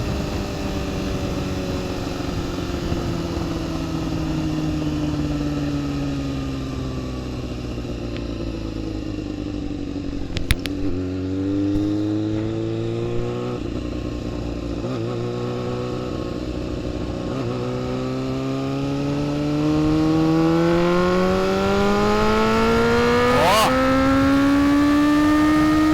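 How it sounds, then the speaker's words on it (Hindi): A four-cylinder 600cc-class superbike engine revs steadily while riding, its rising and falling pitch sweeping through gear changes over continuous wind and road noise, loud and close throughout with a sharper climb near the end. "इसकी जो साउंड है वो बंदे को ले जाती है, लगता है जिस तरह आप कोई 600 सीसी बाइक चला रहे हैं।"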